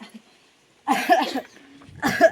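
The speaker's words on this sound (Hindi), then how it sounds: "क्या पूरा दिन खांसता ही रहेगा" Two bursts of harsh coughing from a man acting in a nursing-college stage play about tuberculosis, each fit a rough, close, loud cluster of hacks separated by a brief quiet pause.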